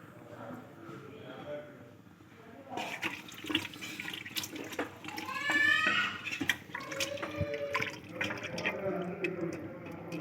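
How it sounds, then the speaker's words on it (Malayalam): Water is poured into a pot of beef and ash gourd curry, a splashing gush that starts a few seconds in and runs unevenly for several seconds at close range. "ഇതിലേക്ക് ആവശ്യമായ വെള്ളം ഒഴിച്ചു കൊടുക്കട്ടോ"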